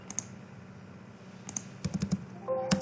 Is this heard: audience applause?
no